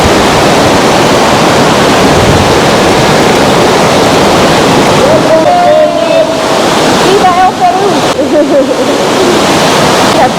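A nearby waterfall thunders in a loud, constant roar on a freezing day, while people talk briefly over it toward the end.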